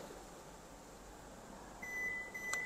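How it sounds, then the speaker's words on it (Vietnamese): The power tailgate of a Custin 2023 premium-trim vehicle gives a faint electronic beep that confirms its opening height is set, a thin steady tone over a low, quiet hum. "Khi nào nghe tiếng tít tít là chúng ta đã set cái đồ mở thành công rồi."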